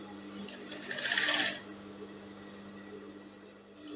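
Sewing machine stitching a fabric cover onto a corset bra cup, a short loud burst of rapid running stitches lasting about half a second, then stopping, with a steady low hum behind it.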